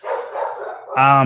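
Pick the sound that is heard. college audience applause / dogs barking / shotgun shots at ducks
dogs barking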